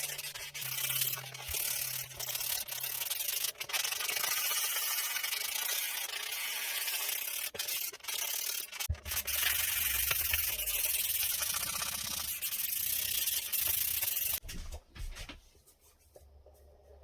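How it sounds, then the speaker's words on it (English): Sandpaper rubbing over a laminate competition air rifle stock, working it to 320 grit: continuous close scratchy strokes with short pauses, fading to near quiet at the end. "You've just seen that I've sanded this to 320 grit."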